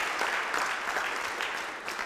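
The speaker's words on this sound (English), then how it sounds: "Round of applause for our volunteer." A seated audience applauds a volunteer at a conference session, giving a steady, dense wash of clapping that holds at an even level for about two seconds.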